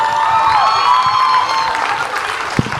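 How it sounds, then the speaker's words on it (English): Audience applause at a candid talk with author Shobhaa De, a steady wash of clapping with light cheering that holds evenly for about three seconds, with one sharper clap near the end. "Big round of applause for her"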